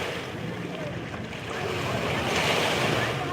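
Wind blows outdoors in a steady broadband rush that buffets the microphone and swells louder toward the end.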